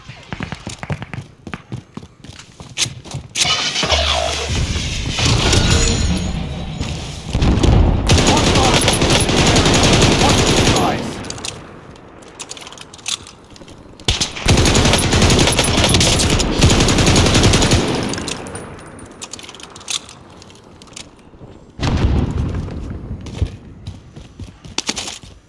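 Sustained Bren light machine gun bursts in a first-person shooter video game, long loud rattling volleys alternating with brief pauses, mixed with other battlefield gunfire.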